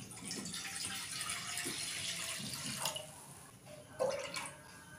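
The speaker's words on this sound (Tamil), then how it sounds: "நான் வந்து ஒரு 5 கிளாஸ் வர அளவுக்கு வந்து தண்ணி சேர்த்துருக்குறேன்" Water pours into a cooking pot while garlic pepper soup is being prepared, a steady running splash with brief sharper spurts near the end, close and moderately loud with no talking.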